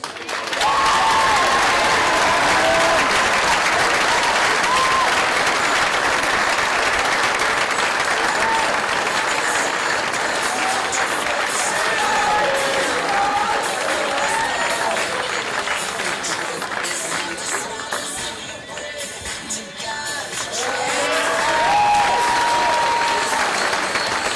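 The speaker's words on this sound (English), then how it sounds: "Once again, a big round of applause and thank you to all of our spring coaches." Sustained, loud applause from an audience at a high school athletic awards event, honoring spring coaches. The clapping runs steadily for over twenty seconds, dips briefly near the end, then swells again.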